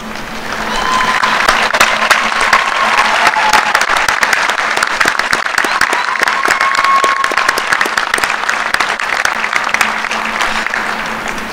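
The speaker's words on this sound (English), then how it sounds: "I ask you, our graduates, to please stand and applaud their contributions to your success." Business administration graduates at a fall commencement stand and applaud the faculty, a loud, sustained wash of many hands clapping in a large hall, with a faint crowd murmur and a tonal hum beneath.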